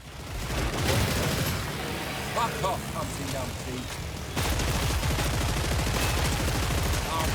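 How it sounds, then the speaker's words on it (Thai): Heavy, punchy gunfire in Killing Floor 3 with bursts of rapid shots and explosive booms, loud and continuous, with a voice speaking briefly partway through. "เสียงปืนล้วนถูกออกแบบใหม่ให้มันดูหนักแน่นและก็สะใจมากๆ"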